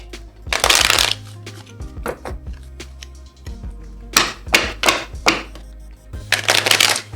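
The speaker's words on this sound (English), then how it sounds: "Okay, now let's get some oracle cards." A deck of oracle cards shuffled in bursts, crisp riffling flurries separated by lighter taps and slides of cards, close and loud, with a low hum beneath.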